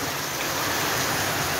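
Heavy rain pours down during a storm in Jamaica, a dense, loud, unbroken hiss filling the whole short stretch.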